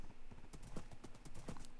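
Horse hooves clip-clopping at a walking pace in Minecraft, a steady quick rhythm of hollow knocks at a moderate distance, without talk.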